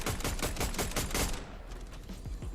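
Assault rifle gunfire in a video game: a dense, loud rapid burst of shots, then a slightly sparser run of individual reports that continues to the end.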